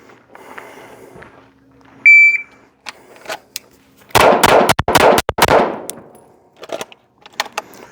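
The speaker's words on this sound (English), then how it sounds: "So, from the hip, I'm gonna draw, okay? Come out and fire 6 rounds." Pistol drawn from the hip and fired six rounds in quick succession, a burst of loud close gunshots about three seconds long, preceded by a timer beep and followed by clattering and faint voices.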